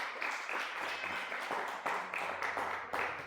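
Church congregation applauding, a sustained wash of many hands clapping at moderate distance with slight swells, fairly faint overall.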